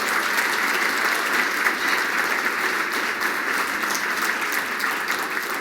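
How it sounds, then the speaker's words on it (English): Sustained, dense audience applause fills a large hall during a government farewell address, steady and loud throughout with no talking over it. "giving a huge round of applause to Deputy Secretary Nani Coloretti"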